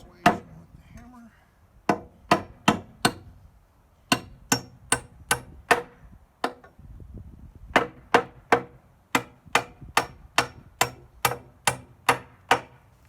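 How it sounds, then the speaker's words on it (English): Hammer blows knocking greenhouse wall framing into place on an off-grid build, a long series of sharp, loud strikes in quick bursts with brief pauses between runs, close by. "Persuasion with the hammer."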